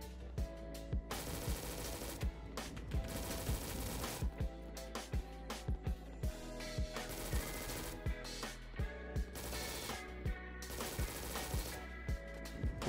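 A gun loaded with hollow-point rounds firing in the shooter game Recoil, with repeated rapid bursts of shots at a steady rhythm over a constant background of music.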